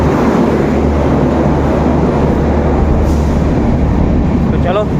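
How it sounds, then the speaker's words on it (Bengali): A Howrah superfast express train rumbles steadily close by as it enters platform two, a continuous loud roar of wheels and engine with faint voices underneath. "একশো আঠাশ আঠাশ হাওড়া সুপারফাস্ট এক্সপ্রেস ঢুকলো দু নম্বর প্ল্যাটফর্ম"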